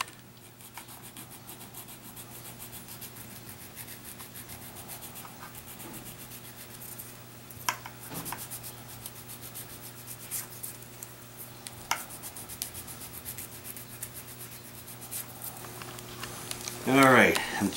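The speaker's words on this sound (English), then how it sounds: "Take your good sanding stick and you sand right to your line." Soft, steady scratchy rubbing of a sanding stick against hard plastic continues throughout, with a low hum underneath and occasional clicks.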